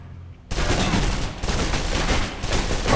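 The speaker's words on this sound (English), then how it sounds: "let's try out the submachine gun then. Now let's empty the clip." Submachine gun in the video game Alpha Protocol empties a full clip in one loud, rapid burst after a quiet lead-in, the shots running close together until the end.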